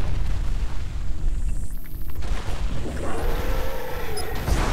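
A grenade goes off in the shooter game BlackSite: Area 51, a loud booming blast with crashing debris and a rumbling tail, followed by further heavy impacts and a second burst near the end.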